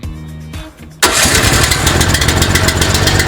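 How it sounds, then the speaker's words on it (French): A small engine from a tonnerre-series machine is started with a key. After a brief crank it catches abruptly and settles into a loud, steady, buzzing run close to the microphone. "ensuite, on va utiliser la clé pour démarrer"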